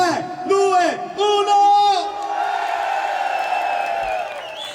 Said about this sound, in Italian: 3, 2, 1, l'urlo della piazza di Milano!